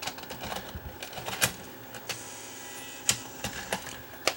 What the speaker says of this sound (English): I'll throw this DVCAM tape in